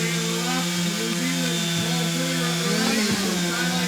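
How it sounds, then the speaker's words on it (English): A hot saw, a modified high-powered chainsaw, runs at a steady loud whine as it cuts wood in a timbersports competition, with an unbroken engine roar throughout. "his hot saw, he told me he's got it running real good."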